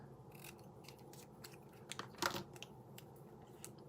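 Quiet snips of scissors cutting through paper, a series of short crisp cuts at an uneven pace, with one louder snip near the middle.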